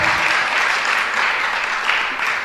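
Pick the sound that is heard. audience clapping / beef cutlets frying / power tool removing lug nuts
audience clapping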